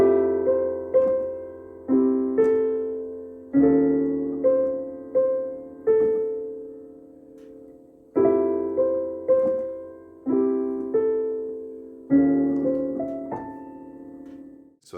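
Solo piano playing the opening section of a song, with clear, rich chords struck one after another and left ringing to decay, in a slow, gentle rhythm with no talk.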